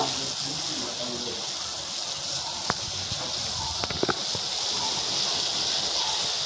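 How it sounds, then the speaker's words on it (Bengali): Soybean chunks drop into a pot of boiling salted water, giving a steady bubbling hiss with a few small splashes and plops in the middle. "যে সোয়াবিনগুলো বের করে রেখেছি অল্প অল্প করে এই ফুটন্ত জলে আমি দিয়ে দেব"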